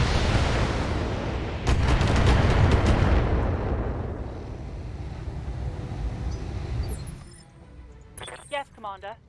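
LRM missile volley in BattleTech, a heavy roaring rush with a burst of rapid launch thuds that rumbles on and slowly fades, ending with a few short sharp sounds and a voice speaking.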